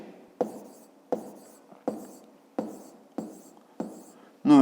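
Pen strokes writing out a fifth-grade maths solution by hand, about six sharp scratchy bursts in a steady rhythm, close and fairly quiet, ending in a brief louder rub.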